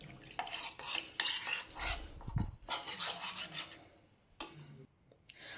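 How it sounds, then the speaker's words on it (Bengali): Cornflour whisked with cold water in a bowl: repeated scraping, clinking strokes of a utensil against the bowl, close and fairly loud in an uneven rhythm, with no talking. "কর্নফ্লাওয়ার নিয়ে নিলাম, এটাকে ঠান্ডা জল দিয়ে গুলে রাখবো।"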